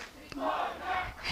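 Teammates cheering for a compound archer at a European Youth Cup individual final, a brief burst of shouted encouragement from a small group, moderately loud with a sharp click near the start.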